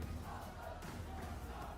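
Crowd noise at a Tekken 8 esports event, a continuous distant roar of many voices with shouts blending into a steady wash and no break.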